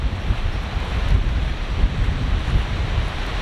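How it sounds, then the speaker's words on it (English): Strong wind buffets the microphone at a stormy beach in roughly 40 km/h gusts, a loud, steady roar of rumbling noise with surf mixed in and no one talking. "Windy. There's like, yeah, crazy wind. 40 km/h winds."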